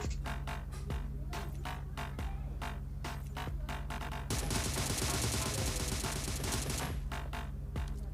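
Gunfire rattles in the PUBG Mobile video game as a player shoots at an enemy. Rapid single shots come first, then a dense sustained burst of automatic fire, then a few more sharp cracks, all loud and close.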